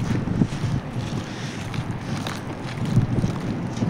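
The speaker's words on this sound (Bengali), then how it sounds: "প্রচন্ড ধুলা উঠতেছে।" Strong wind blowing through a dust storm in Kuwait, a steady, close buffeting roar and rumble that fills the whole stretch with no voices.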